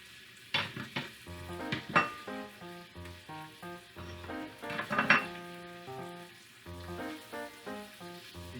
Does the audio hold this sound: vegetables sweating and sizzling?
yes